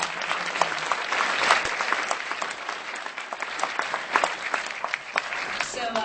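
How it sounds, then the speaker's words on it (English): Audience at an opening-night marketing event applauds sponsors with steady, dense clapping throughout, a few louder claps standing out near the end. "so please, a round of applause"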